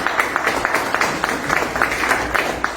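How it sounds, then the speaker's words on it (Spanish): An audience claps steadily at a book presentation, the applause filling the room briefly at moderate volume with no voices over it. "Un fuerte aplauso para los compañeros."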